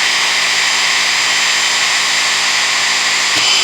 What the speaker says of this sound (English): And then now I can drill through.